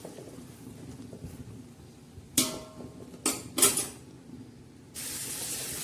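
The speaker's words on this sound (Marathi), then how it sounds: "तर चला आता हा तडका परत आपण छानसा असा हलवून घेऊया" A spoon clanks against a pan while tadka is stirred for homestyle village chicken biryani: a few sharp metallic knocks over low kitchen background noise, with no talking.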